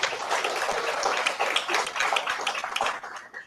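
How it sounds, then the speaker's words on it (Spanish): A church congregation applauds in welcome: dense, steady clapping from many hands that fills the space at moderate volume and tapers off near the end. "démosle ese fuerte aplauso de bienvenida"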